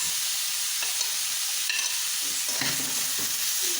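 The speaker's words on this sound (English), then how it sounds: "Let's saute this until the onion roast well." Onions sautéing in an iron kadai, a bright continuous sizzle held close and loud for a few seconds, with light scraping of stirring breaking through now and then, no voices.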